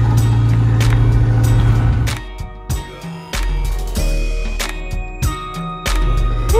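A truck delivering a tiny home to an off-grid homestead rumbles close with a low engine drone, broken by knocks, clunks and rattles as it works around curves, with no talking.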